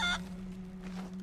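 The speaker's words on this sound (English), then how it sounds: "No, that was a chicken." A chicken in the pirate video game Sea of Thieves gives a short, clucky squawk at the start, then falls quiet over a steady low in-game hum.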